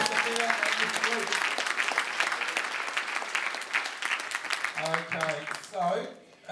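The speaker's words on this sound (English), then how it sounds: "Round of applause, guys, for Sophia and Mr. Luke." A class claps for two students after a tennis-ball demonstration of diminishing returns: lively, sustained clapping that thins out near the end, with a voice or two breaking in.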